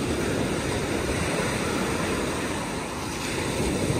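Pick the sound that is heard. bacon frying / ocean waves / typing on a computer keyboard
ocean waves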